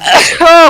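One close, loud sneeze bursts out with a sharp breathy start and a short, voiced blast at the end.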